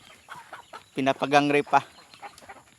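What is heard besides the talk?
chickens clucking on a farm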